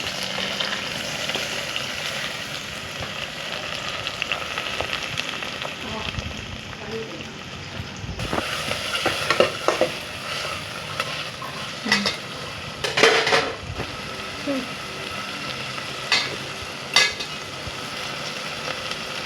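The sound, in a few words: onion and tomato sautéing in oil with mustard seeds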